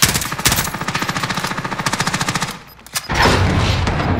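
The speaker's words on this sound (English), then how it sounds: "I shot him once, Mitch." Automatic gunfire in the video game Call of Duty Cold War Warzone: a rapid, evenly spaced burst of loud, close shots lasting a couple of seconds, then a single shot and a brief noisy swell.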